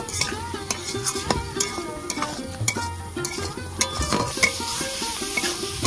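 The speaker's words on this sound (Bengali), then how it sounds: "এবার আমি এই পকোড়াগুলো দিয়ে দেব। দিয়ে একটু ভালো করে কষিয়ে নেব" Fish roe pakoras are stirred into oily gravy in a pan, with a steady sizzle broken by repeated scraping and knocking of the spoon against the pan.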